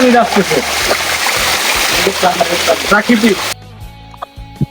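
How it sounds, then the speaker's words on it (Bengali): A waterfall in Mirinja valley, Lama, Bandarban, splashes with a loud, close roar while voices talk over it, then the sound cuts off abruptly near the end. "আমরা ফাইনালি আমাদের সেই কাঙ্ক্ষিত ঝর্ণার কাছে এসে পৌঁছেছি"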